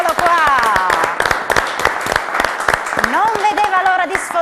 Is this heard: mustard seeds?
no